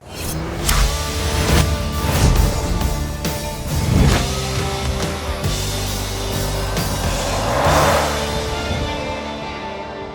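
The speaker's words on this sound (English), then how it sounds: "This is the new Hummer EV." A Hummer EV electric truck drives past with a steady whine and road roar, broken by a few louder surges and whooshes, close and fairly loud throughout.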